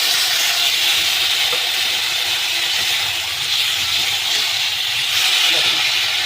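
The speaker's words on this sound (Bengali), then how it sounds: "এবার আমি আদা রসুনের পেস্টটা দিয়ে দিলাম।" Ginger-garlic paste fries in a pan of hot oil for an egg curry, giving a loud, continuous broadband sizzle that holds steady throughout.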